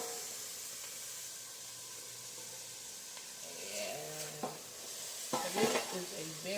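Chickpea stew pot where peppers are added, giving a steady frying sizzle with stirring scrapes and a few louder clatters toward the end, close and without speech.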